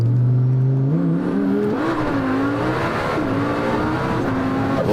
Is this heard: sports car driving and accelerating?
yes